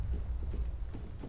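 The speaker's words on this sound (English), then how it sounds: "Ooh, it is raining." Heavy rain in a video game roars as a constant wash, with low rumbling thunder rolling underneath in a few swells; loud and close, without speech.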